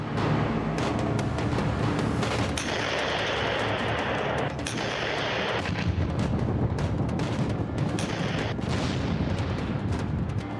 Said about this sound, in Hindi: रूस की सेना बेलारूस में तोप से गोले बरसा रही है